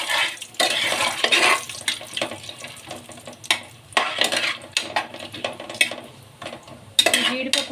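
Cashews and chopped onions frying in a pan, with a spoon scraping and clinking against the metal in irregular strokes over a soft sizzle, close and moderately loud.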